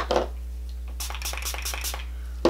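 Rose water spritzed from a spray bottle: two short, close hissing bursts at the start and end, separated by soft faint taps over a low steady electrical hum.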